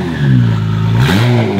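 An Acura NSX fitted with upgraded Pure 900 turbos gives a single short throttle blip, the engine note rising sharply then settling back to a steady idle, loud and close with no talking.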